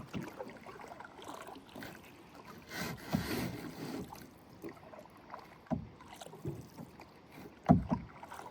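Canoe paddling on Maligne Lake: soft, close paddle strokes dip and swirl through calm water in an unhurried rhythm, with occasional louder splashes and knocks against the hull, no voices.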